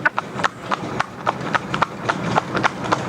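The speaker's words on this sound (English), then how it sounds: "Lovely little pony, you know, one of the best ponies we've ever had here" An outgrown child's pony trots in harness, its hooves clip-clopping in a quick, even rhythm of sharp, close strikes with no voices over them.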